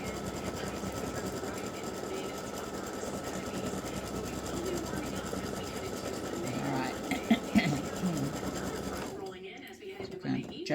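An embroidery machine stitches free-standing lace Christmas tree earrings and a gift tag, giving a steady rapid mechanical chatter under a person talking before it pauses near the end.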